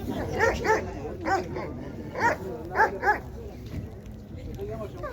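Alabai dogs at an outdoor dog market give repeated short barks and yips in bursts, fairly close, over a murmur of crowd chatter and people talking.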